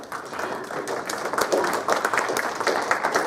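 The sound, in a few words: audience applause for panel speakers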